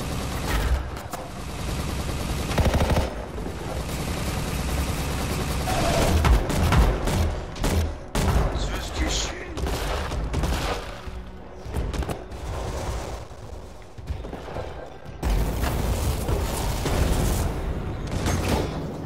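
Dense bursts of automatic gunfire and explosions in the video game Anthem, continuous rapid shooting with booms and mechanical clanks throughout, loud and busy with no clear speech.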